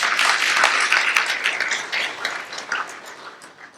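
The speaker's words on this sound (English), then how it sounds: "So let us applaud for them." An audience at a school event applauds teachers, a dense, bright wash of many hands clapping that starts loud and gradually thins and fades over a few seconds, with no voices over it.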